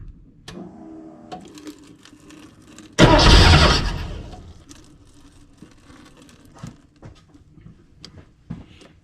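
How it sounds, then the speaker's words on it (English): A Porsche 914 engine is started with a new fuel pump switched on: a loud churning burst of cranking and running noise for about a second, fading out, amid scattered clicks and clatter before and after. "I'll put the engine on, turn the fuel pump on, and see if there's any fuel that will come out."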